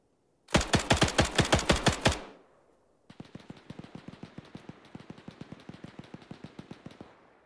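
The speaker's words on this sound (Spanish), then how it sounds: "Recibimos disparos. Abrimos fuego de cobertura al tanque y yo." Automatic gunfire in a war video game: a loud, close burst of rapid shots for about a second and a half, then a short pause and a longer, quieter, more distant stream of rapid fire.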